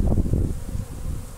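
Apis honey bees buzzing close by around the stump of a cabiúna tree, a dense low droning hum that swells and fades over a rustling background, with no talking.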